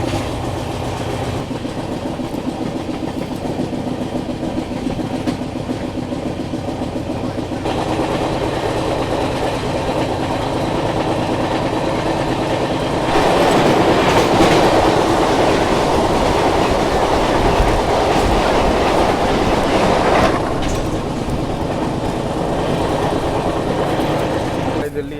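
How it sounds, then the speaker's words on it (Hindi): A Vande Bharat Express bound from New Delhi to Shri Mata Vaishno Devi Katra rushes past on the adjacent track, a loud, steady roar with rhythmic wheel clatter that swells midway, heard from a moving train near Adarsh Nagar, Delhi. "सामने से आने वाली है नई दिल्ली श्री माता वैष्णो देवी कटरा वंदे भारत एक्सप्रेस।"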